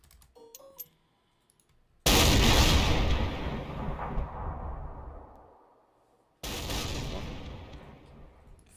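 Artillery guns in a Battle of Leipzig video game fire in two loud, heavy booms, each with a long rumbling tail fading out, separated by a quiet gap after some faint clicks.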